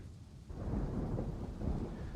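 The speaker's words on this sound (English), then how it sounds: "a thunderstorm hits for the whole duration of the session" A thunderstorm breaks outside, with a deep rolling rumble of thunder swelling up suddenly and mixing with the hiss of steady rain; fairly faint and distant overall, with no voices.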